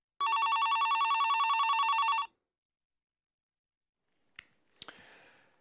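A telephone rings on a Deaf Relay Service call: one long bright electronic ring lasting about two seconds, then silence and a few sharp clicks like a handset being picked up.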